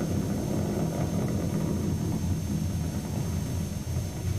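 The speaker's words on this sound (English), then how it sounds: "Engines beginning to rev up." Space Shuttle Discovery's engines during launch, heard as a steady, heavy low rumble with broadband roar, continuous and unbroken throughout.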